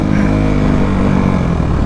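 A Kawasaki KX450F dirt bike engine roars loud and close, a continuous heavy rev held throughout with a rough, throbbing low-end growl and no voices.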